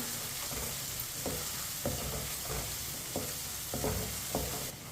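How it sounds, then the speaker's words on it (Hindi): Garlic cooks over moderate heat in a pan for Pakistani chicken bhindi, a steady sizzle running throughout while a spoon stirs it, scraping with soft periodic clinks about every half second. "ऐसे ही चम्मच लाते हुए पकाएं लहसुन को भी।"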